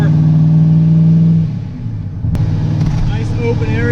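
A 1000+ horsepower Corvette on an open Mexican highway, its engine droning loud and close in a steady harmonic hum, dipping briefly before building again in third gear as a voice talks over it.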